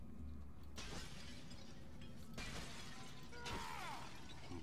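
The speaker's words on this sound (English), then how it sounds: "And pots for smashing." Clay pots smashing in the fantasy action game Lord of the Rings: War in the North, with three sharp shattering crashes in a row over steady background game ambience, no voices.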